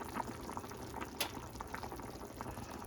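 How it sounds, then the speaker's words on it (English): A pot of ham and potato soup bubbles at a low simmer, giving a soft, steady bubbling and gurgling with small pops, close up and fairly quiet, with no voices. "Reduce to a simmer."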